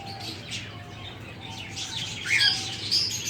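Pet cockatiels in a cage give high, scattered chirps and short calls, growing a little louder toward the end over a low background hum.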